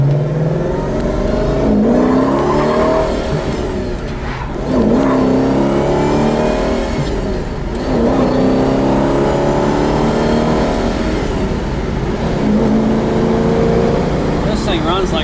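A 1970 Pontiac GTO Judge with the Ram Air III engine and four-speed drones loudly and steadily while driving, swelling through repeated acceleration pulls with rising and falling engine pitch, close and continuous.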